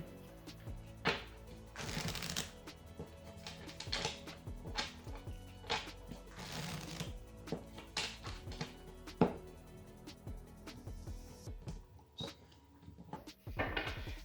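Tarot cards are shuffled in repeated brisk riffles and soft slaps, close and clear, with a few knocks and taps between bursts.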